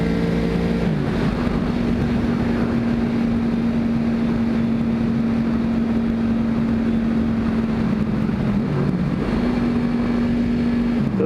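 A sportbike engine holds a steady, droning note while the rider passes a car on the road, with loud, constant wind rush over the microphone and no talking.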